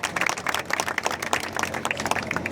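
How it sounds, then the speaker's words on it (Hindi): A crowd applauds for the Indian government and the BJP at a talk on GST cuts, with distinct scattered handclaps in a lively, uneven patter that is moderately loud, and no speech on top. "भारत सरकार के लिए, भारतीय जनता पार्टी के लिए जोरदार तालियां हो जाए।"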